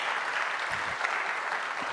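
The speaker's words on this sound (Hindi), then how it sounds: "जोरदार ताली बजाएंगे" Audience applause at a church sermon, a dense steady wash of many hands clapping, loud and continuous throughout with no gaps.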